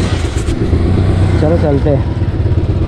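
Motorcycles rumble near a beach in the Konkan region, giving a close, loud, steady low engine drone with a brief rising rev in the middle, while people talk over it.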